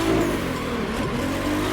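A car drifting in a racing video game plays a steady loud engine drone with revving and tire whine, heard without speech.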